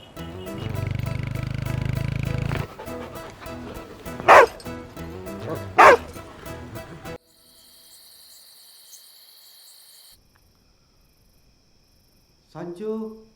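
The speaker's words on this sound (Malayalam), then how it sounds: "ഈ പട്ടി എന്തിനാ നോക്കണേ?" A dog gives two loud, sharp barks a second or so apart over background music in a Malayalam film scene, followed by quieter tones and a brief voice.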